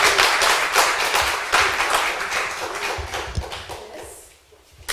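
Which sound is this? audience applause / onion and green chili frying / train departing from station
audience applause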